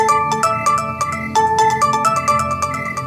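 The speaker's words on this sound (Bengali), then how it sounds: "সন্ধেবেলা সমুদার কাছে কলকাতা থেকে ফোন এলো" A telephone rings in a steady electronic pattern of repeated tonal bursts, loud and close, with no voices over it.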